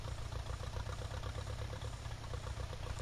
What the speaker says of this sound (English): This is what I like about this tractor the most. It sounds like it should.